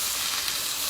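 A tenderloin sears in a hot pan, giving off a loud, close, unbroken sizzle that holds even for a brief moment with no other sound.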